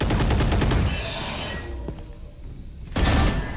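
Rapid gunfire in a competitive multiplayer shooter video game, a fast burst of repeated shots for the first second and a renewed loud volley near the end, with quieter game ambience between.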